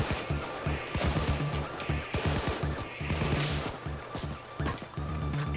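Rapid bursts of gunfire from a weapon in the video game Payday 2, firing in repeated volleys with sharp impacts over a dense, loud game soundscape.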